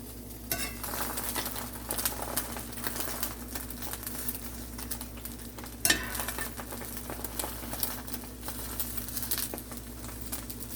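Egg omelette frying in a pan beside sweet potato, a steady soft sizzle with light scraping and clinks of utensils against the pan, one sharper knock midway, close and with no voices.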